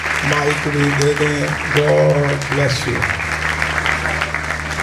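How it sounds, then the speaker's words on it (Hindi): Applause from a seminar audience greeting two pastors at a leadership training session, a steady clapping wash running beneath a man's short spoken remarks. "दोनों को हम तालियों के साथ वेलकम करेंगे"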